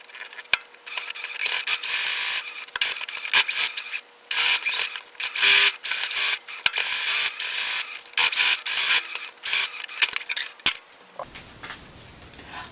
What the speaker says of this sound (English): Now I'm going to sew this and show you what I got.